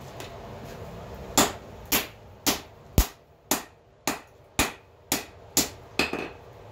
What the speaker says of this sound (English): Tap this with a hammer.